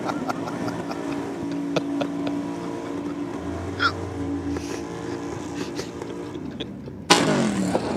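Holden VK car fitted with a Chev engine, a low rumbling drone under ambient noise, rising in a few surges before a sudden loud roar near the end.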